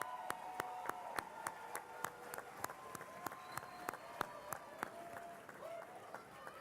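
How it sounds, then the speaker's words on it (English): A university commencement audience claps for the faculty, faint and distant, with sharp claps landing in a fairly regular rhythm and no talking. "Let us recognize and applaud the faculty."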